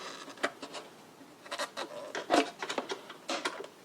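A flathead screwdriver turns a custom hose clamp on the intake and charge pipes of a 2020 BMW 740i, making short, uneven scraping and grinding bursts up close, separated by brief pauses.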